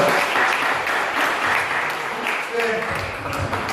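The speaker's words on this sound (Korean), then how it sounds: "여러분 큰 박수 부탁드립니다" Wedding guests applaud the bride and groom at a ceremony, a sustained, dense wash of clapping from a large crowd that holds steady throughout, with faint voices mixed underneath.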